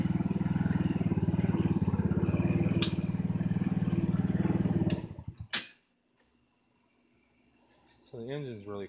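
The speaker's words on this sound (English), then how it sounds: "So the engine's really quiet now." A 2015 Hammerhead GTS 150 engine, after a coil wire and grounding fix, runs close, even and steady for about five seconds, then cuts off to near silence before a voice starts talking.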